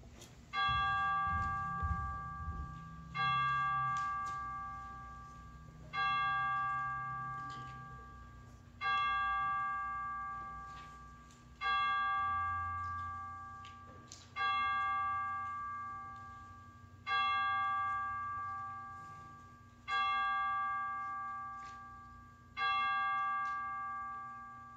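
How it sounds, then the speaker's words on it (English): Church chimes ring for Christmas Eve worship at Christ UCC in Schoenersville, a clear series of about nine evenly spaced bell strikes, each sustaining and fading before the next, steady and fairly loud with no talking. "let the chimes bring us into worship on this holiest of nights"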